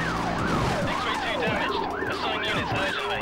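Police car sirens from the video game The Getaway wail in overlapping rising and falling sweeps, loud and continuous, with several sirens layered together and no talking.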